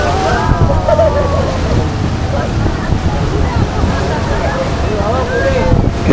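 The Rhine Falls waterfall in Switzerland is heard from a tour boat close to the falls: a loud, continuous rushing roar of water with wind buffeting the microphone.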